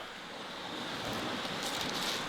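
Sea waves wash onto a pebbly beach, a continuous broad hiss of surf swelling slightly louder toward the end, with no voices.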